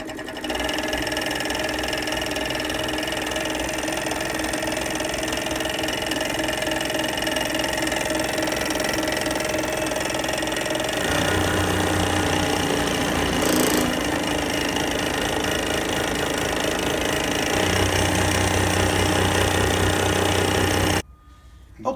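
A braid-setup sewing machine runs steadily on a sewing table after refurbishing, with a continuous mechanical whir that shifts pitch partway through before cutting off near the end, no talking.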